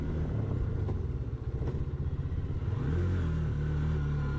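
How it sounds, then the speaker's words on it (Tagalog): A Hero Hunk 160R 4V motorcycle engine runs on a long ride, a close, steady mid-pitched drone that rises as the throttle opens near the end, with no voices. "Kaya maganda ang throttle response ng Hero Hunk."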